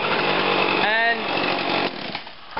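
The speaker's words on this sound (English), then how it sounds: "So I've just got it going now, and you can see that the head's already spinning" Small two-stroke whipper snipper idling with its cutting head already spinning, a steady buzzing drone up close that dips briefly toward the end.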